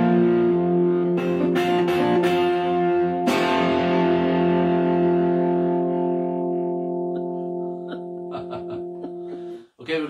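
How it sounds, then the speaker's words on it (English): Music played through a distortion effect at a live living-room performance, with sustained buzzing, harmonically rich chords and several sharp strummed attacks that ring out and slowly fade, then cut off near the end. "try a bit of distortion on the next one."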